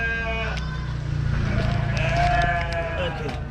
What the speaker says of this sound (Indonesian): Oh, di sini ada juga kambing.